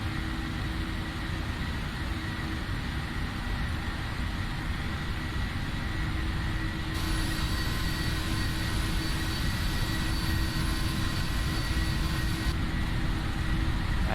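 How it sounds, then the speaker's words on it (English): Jet engines of a PMDG 737 in a flight simulator hold steady takeoff power, a continuous loud roar with a high whine that brightens partway through. "Okay, takeoff power set."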